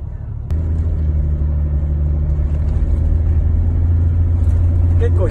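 Inside a Toyota Land Cruiser 100 on the move, a steady low engine and road rumble drones on continuously, smooth and even at close range.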